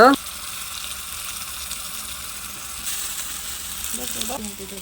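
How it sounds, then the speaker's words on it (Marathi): Mustard seeds, cumin, chilli and curry leaves sizzle in hot oil in a kadhai for Mumbai-style vada pav, a steady close hiss broken by a few brief tonal sounds. "तेल चांगलं तापलं त्यानंतर त्यात राई, जिरे, मिरची, कढीपत्ता घालून घेऊया"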